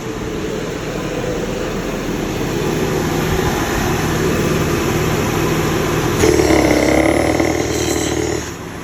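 A car engine idling from a cold start with the secondary air pump running, AC and rear defrost on, producing a steady droning whir and blowing hum that swells slightly and then drops off near the end.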